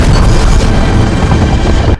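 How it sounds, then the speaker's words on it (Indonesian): A missile strikes a fighter jet in the film Top Gun: Maverick, a loud sustained booming explosion with deep rumbling that fills the whole moment before cutting off abruptly. "Namun naasnya, Roster pun terkena rudal"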